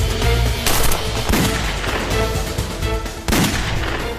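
A TV drama shootout erupts in rapid bursts of gunfire, sharp loud cracks and automatic volleys repeating in several clusters over a dense, booming background.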